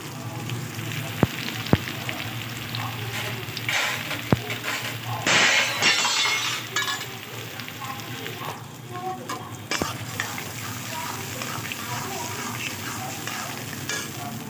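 Chopped onion hits hot oil in a pan for a chicken curry, a steady sizzle with occasional sharp clinks of a spoon against the pan and a brief louder burst of frying midway.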